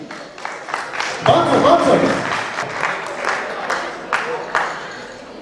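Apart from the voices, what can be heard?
wedding guests applauding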